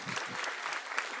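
Audience at a comedy club applauds in a brief, dense burst of clapping, moderately loud and without speech over it.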